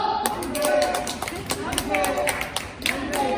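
Wedding guests clap in a dense, lively burst, with scattered sharp claps over crowd murmur and talk; the noise stays steady for a few seconds at moderate loudness.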